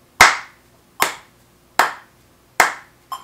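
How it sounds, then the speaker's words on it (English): Four crisp, evenly spaced hand claps land on the beat of a metronome set to quarter notes, each sharp and close, nearly masking the faint click, with a lighter fifth tap at the end. "it's not because I'm clapping very hard, it's because my timing is such that if it's dead on, you're not really going to hear the metronome click"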